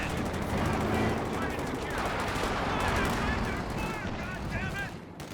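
Sherman tank and anti-tank gun firing at a Panzer IV in a Company of Heroes 2 battle, dense continuous gunfire and cannon blasts with machine-gun rattle throughout, loud and busy from start to finish.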